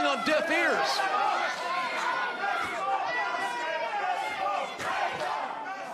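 A wrestling crowd shouts and yells in a dense, loud roar, many voices overlapping in chaotic bursts that stay at a constant high level.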